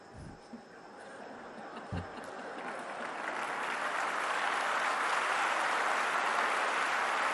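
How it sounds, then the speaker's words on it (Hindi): Audience applause at a spiritual class, starting with a few scattered claps and swelling into steady, loud clapping from a large crowd that fills the room to the end. "आपने किसके लिए ताली बजाई?"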